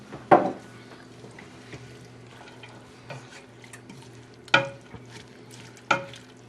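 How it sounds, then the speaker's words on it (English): Beef stock poured into a hot soup pot gives a soft, low sizzle, broken by a few sharp clanks and knocks of utensils against the pot, nearby with no talking. "I'm going to add 1 pint of beef stock because it's starting to get really hot in the"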